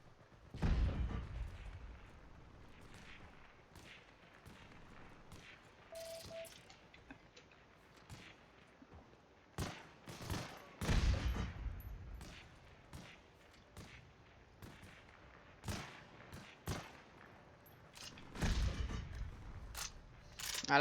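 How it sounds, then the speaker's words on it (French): Gunfire in the WW2 video game Heroes & Generals: scattered sharp shots and thuds burst irregularly across a quiet battlefield, some close and loud, others faint and distant. "Je me fais essuyer des tirs"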